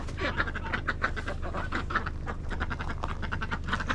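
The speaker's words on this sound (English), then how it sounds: "And these are all different kinds of ducks" A flock of mixed duck breeds on a homestead farm quacking in rapid overlapping bursts, fairly close and moderately loud over a low steady background hum.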